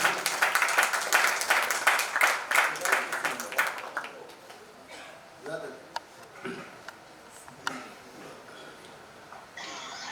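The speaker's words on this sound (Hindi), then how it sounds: "आइए पुरजोर तालियों से आइए" An audience at a poetry recital claps to welcome a poet, a loud burst of many hands that thins into scattered claps and fades under talk.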